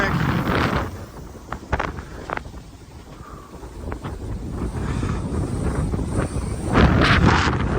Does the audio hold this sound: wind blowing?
yes